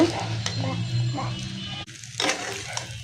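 For home-style chicken chowmein, noodles and chicken fry together in a pan with close, bursty sizzling and stirring. Brief pauses and a sudden swell follow, with possible voice sounds underneath.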